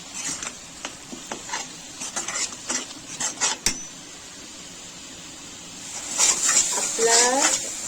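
Masala stirred in a pan while cooking palak paneer, with a series of scraping, clinking utensil strokes in the first half, a pause, then a louder sizzling burst near the end.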